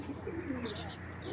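Black checker pigeons coo faintly in soft, low murmurs, partly buried under steady background noise.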